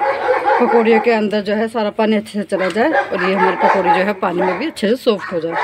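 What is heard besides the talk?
dogs barking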